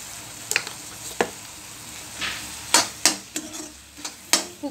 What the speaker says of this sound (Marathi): आता सोललेले वाल आहेत ते आपण याच्यात टाकूया।